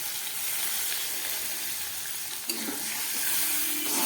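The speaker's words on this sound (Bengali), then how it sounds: "এবার আমি দিয়ে দিচ্ছি এতে জল" Water poured into a pan of fully cooked masala for a ridge gourd and fish curry, a continuous hissing sizzle that swells with a sudden splash and bubbling as the water hits.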